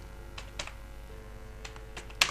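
Someone types a search into a web browser on a computer keyboard: sparse, irregular keystrokes tapping quietly and close by, ending with one sharper, louder key press.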